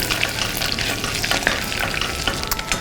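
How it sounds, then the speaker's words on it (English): Tomato paste sizzles in melted butter in a pan, a steady close crackle and hiss with faint stirring scrapes and no talking. "I'm going to saute the tomato paste with the butter until it smells a little bit more cooked"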